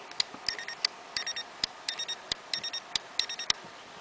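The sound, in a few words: Smart Parts Vibe paintball marker electronic beeping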